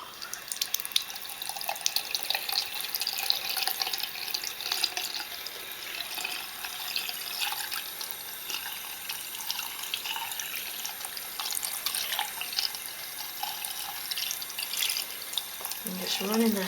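Cold water runs steadily from a tap over a piece of fabric at a sink, a continuous close splashing hiss that lasts throughout, with a brief low knock near the end.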